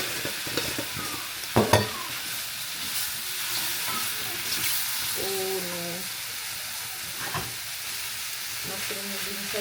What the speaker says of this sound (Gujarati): 1 ચમચી જેટલું ઘી નાખ્યું છે.